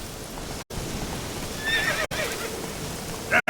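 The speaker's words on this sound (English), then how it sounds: "Run, Roach." In The Witcher 3, a horse gives a loud neigh over hoofbeats and ambient game sound. Brief dropouts break the sound, and no one speaks.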